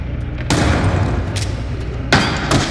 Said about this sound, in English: The grenade with its metallic bounce before the explosion.